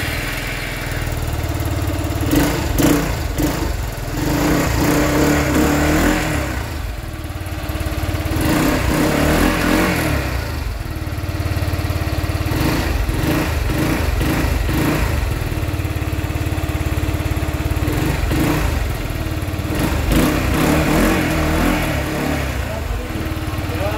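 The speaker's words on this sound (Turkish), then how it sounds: "Hemen bir egzoz sesi dinleyelim." An RKS Blade 250 motorcycle engine idles and revs repeatedly, the exhaust note swelling and dropping in loud bursts throughout.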